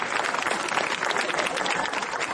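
A theatre audience at a comedy show gives a steady round of applause to welcome a performer, many hands clapping in a dense, even wash at moderate loudness.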